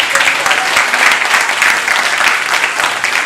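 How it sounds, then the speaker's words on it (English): Loud, close audience applause at a live show in Norfolk, Virginia, a steady burst of many hands clapping with no talk over it. "Let's give him a round of applause."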